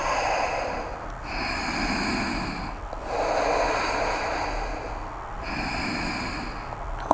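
Slow, deep breaths during a prenatal yoga session, close and soft, with drawn-out inhales and exhales in three long cycles and brief pauses between them, with no talking.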